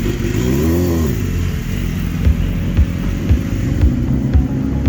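A superbike racing motorcycle accelerates away in a Formula Ultra race at Ridge Motorsports Park, its loud engine note rising at first, then settling into a steady, droning roar.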